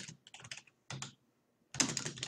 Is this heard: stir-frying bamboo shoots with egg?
no